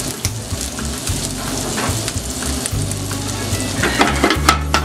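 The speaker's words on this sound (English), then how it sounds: "Now to this bacon, I'm going to add some butter." Bacon frying in a pan with a little butter added, a close, steady sizzle with crackling pops and a few faint scrapes of a utensil against the pan.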